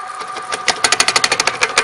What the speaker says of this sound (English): you can hear that cutting lip hitting those chisel marks